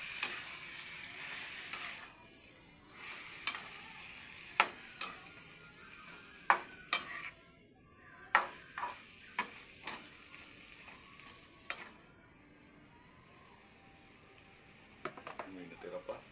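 Squid sizzles in a pan while a utensil stirs it, producing repeated sharp clacks against the pan at an uneven pace over a soft frying hiss.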